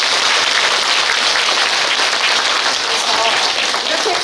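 Audience applause at a party members' education meeting, loud, dense and continuous clapping filling the hall without pause.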